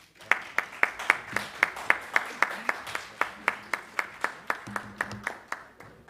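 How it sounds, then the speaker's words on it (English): Steady, rhythmic clapping comes from an audience at an education conference in Jamaica. The claps land evenly, about three per second, moderately close, with no talking over them. "Another round of applause for e-learning Jamaica."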